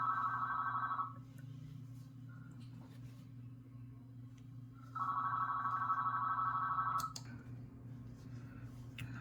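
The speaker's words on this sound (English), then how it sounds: "Sorry about the phone ringing." Telephone bell ringing indoors in two long bursts separated by a quiet pause, fairly faint over a low background hum.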